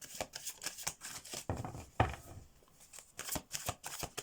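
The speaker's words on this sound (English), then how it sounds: "Let's get the tarots shuffled here." Tarot cards are shuffled by hand in a quiet room, a quick series of soft papery riffles and taps in irregular bursts, close and faint, with no voices.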